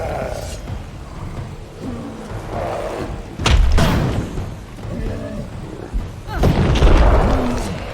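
Bomb explosions in Kingdoms of Amalur Reckoning on Xbox 360, two heavy booming blasts roughly three seconds apart over a dense, continuous game soundscape, with a voice speaking now and then.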